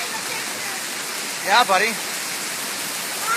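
A waterfall on land gives a steady, broad roar that fills the whole clip, while someone briefly speaks over it.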